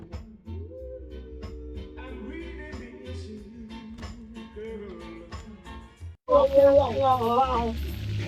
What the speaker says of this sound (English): Lobster frying.